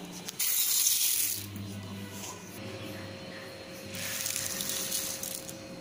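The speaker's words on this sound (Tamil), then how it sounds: "இதை ரெண்டையும் ஒன்றா சேர்த்து ஃபஸ்ட்டு வாஷ் பண்ணிடலாம்." Raw rice and moong dal are washed in water for sweet pongal, giving splashing and running-water sounds that surge, ease off, then rise again, close to the microphone.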